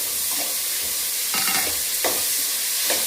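Grated amla (Indian gooseberry) sautéing in a pan with turmeric for nelli rice: a steady close sizzle with a few louder scraping stirs at irregular intervals, no voices.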